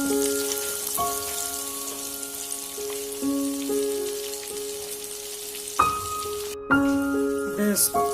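KFC-style crispy chicken frying in hot oil: a steady, moderately quiet crackling sizzle throughout, with tonal hum layered over it and a couple of brief louder bumps near the end.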